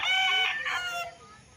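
A rooster crows once nearby on a farm lot, a loud harsh call that trails off quickly.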